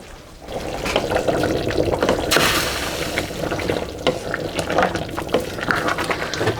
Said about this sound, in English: I'm going to take off my lid so that I can allow my sauce to reduce